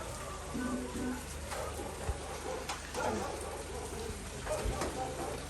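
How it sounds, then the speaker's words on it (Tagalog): Steady rain falling in Baguio, a continuous diffuse patter with a few louder drops, heard close by under intermittent talking voices. "Maulan dito guys ngayon."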